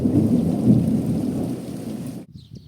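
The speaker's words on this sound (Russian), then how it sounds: "А ночью к нам снова пришла гроза" A night thunderstorm with rain in the countryside, with a deep rumble of thunder over steady rainfall that cuts off abruptly near the end.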